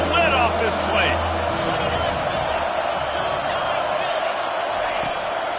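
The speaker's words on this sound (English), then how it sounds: "this crowd is tearing the lid off this place." Football stadium crowd at an FSU versus Clemson game roaring loudly on third down, a dense, sustained wall of cheering and whooping that stays strong throughout, with a commentator talking over it.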